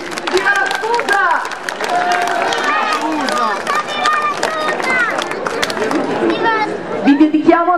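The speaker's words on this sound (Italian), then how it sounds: "Un applauso agli sposi." Wedding guests clapping for the newlyweds at an old-style village wedding in Val Vigezzo, a busy round of applause mixed with lively chatter and voices in a crowded room.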